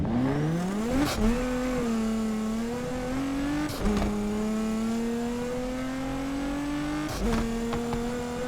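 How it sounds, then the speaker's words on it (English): A Nissan GT-R in NFS Unbound drones with a steady engine note that climbs in pitch, then breaks sharply twice as the revs drop and rebuild, sounding close and loud. "Let's actually put on this GTR and let's start doing some A tier races. Let's have a listen to this thing."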